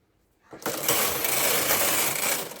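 A knitting machine set for punch card knitting runs the sixth rows of a textured crop top pattern, a steady dense mechanical whirr and clatter that starts abruptly after a short quiet moment and holds loudly to the end.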